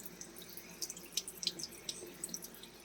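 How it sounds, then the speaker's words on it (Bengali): Water splashing and trickling close by as a face is washed with water at night, with soft, irregular drips and splashes at a quiet level. "জল নিয়ে মুখটা ধুই।"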